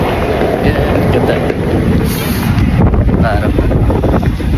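Strong winter wind roars and buffets the microphone on an outdoor New York street at Christmastime, a loud, continuous rushing that fills the whole stretch without a break.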